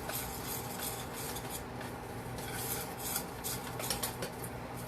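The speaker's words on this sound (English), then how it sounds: "I'm going to put that in the butter, and we're going to stir that to make a roux" Flour being stirred into butter in a pan to make a roux, heard as a steady, continuous scraping and rubbing of a utensil against the pan, close and moderately loud, with no talking.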